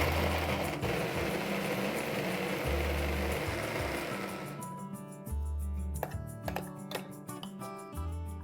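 An electric kitchen grinder whirs loudly as it grinds onions, green chillies and garlic, then cuts off after a few seconds, leaving scattered clicks and ticking rattles.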